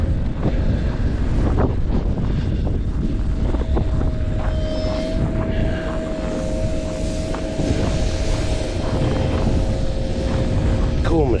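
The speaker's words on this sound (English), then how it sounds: "It is a blowing snow." Wind gusts of about 30 mph blow snow across an icy lakeside path at Lake George in below-zero cold, a constant loud roar buffeting the microphone for the whole stretch, with a steady machine drone running underneath.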